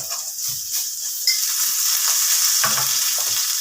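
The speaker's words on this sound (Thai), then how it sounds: "จะผัดพริกแกงให้หอมหน่อยพี่น้อง" Thai curry paste stir-fried in a pan for a forest-style chicken curry with eggplant sizzles steadily up close, with a few scraping strokes of the spatula against the pan and no talk.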